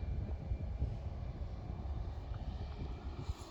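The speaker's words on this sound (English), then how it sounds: "Pretty good landing for Ryanair, well, from my point of view." A Ryanair airliner landing at East Midlands Airport makes a steady low rumble of engines and rolling, heard from a distance as a broad continuous roar without talking.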